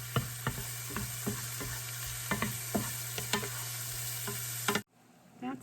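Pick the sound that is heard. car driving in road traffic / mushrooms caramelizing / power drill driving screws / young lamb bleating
mushrooms caramelizing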